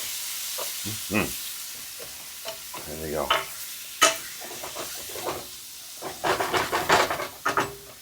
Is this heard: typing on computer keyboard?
no